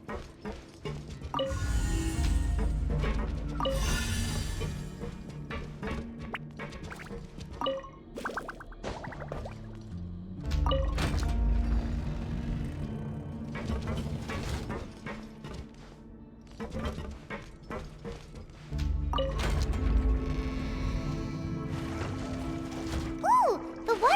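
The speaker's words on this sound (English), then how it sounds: "Activate the mechanism in front of us first, just like before." Stone mechanism activating in Genshin Impact, with repeated heavy grinding and ratcheting bursts, clanks and gear-like clicks separated by quieter pauses as water rises.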